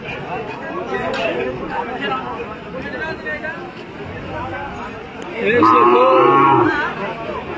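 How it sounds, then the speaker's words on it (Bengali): Cows at a busy rural cattle market: a loud, close moo rises near the end over constant crowd chatter and bustle, with people talking throughout. "সুন্দর সুন্দর বহুত গরু আছে হাটে"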